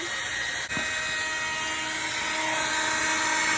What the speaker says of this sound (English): let's heat up the embossing gun